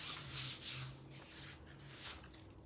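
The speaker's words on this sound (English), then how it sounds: "I'm putting it on my jelly mold. And now I'm just smoothing it out" A hand rubs and smooths a sheet of paper onto a gelli printing plate, soft repeated swishing strokes heard close up and quiet, with no talk.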